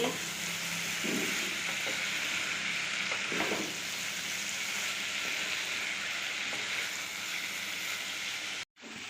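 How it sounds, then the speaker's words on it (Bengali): Coriander powder frying in a pan, with a steady close sizzle and a few scraping stirs early on, a short pause near the end and no talking. "এখানে ধনের গুঁড়োটা দিয়ে দিব একটু নেড়ে নিচ্ছি"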